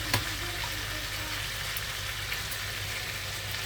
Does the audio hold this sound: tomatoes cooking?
yes